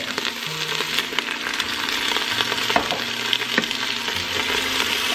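Chuck roast flavorings sizzle with red wine vinegar in an Instant Pot on the sauté setting, a dense, close, continuous frying hiss with crackles and light stirring clinks, no speech.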